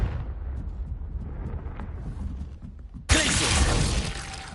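Confringo blasting spell in the video game Hogwarts Legacy, with a rumbling low ambience that gives way to a sudden loud, bright explosive burst that crackles and rolls on for over a second.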